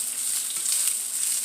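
Garlic sizzles steadily in a hot pan, an even close-up frying hiss with no voices.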